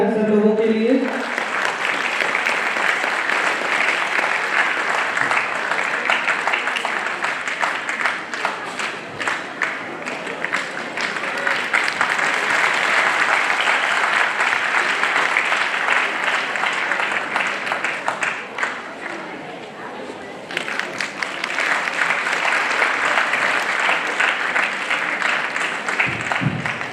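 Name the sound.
audience applause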